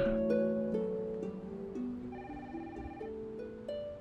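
Within the space game Stardrop, a phone trills with an old-school electronic ringing pattern, soft, repeating tonal bursts that step between pitches over a low background hum.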